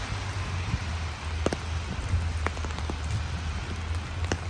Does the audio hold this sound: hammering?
no